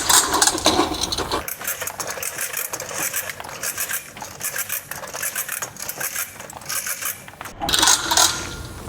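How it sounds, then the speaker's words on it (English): A hose unwinds off a spring-driven Coxreels hose reel, a continuous rattling, ratcheting metallic clatter with rubbing scrapes, close and fairly loud, briefly pausing before resuming, with no talk. "We wind all of the hose off."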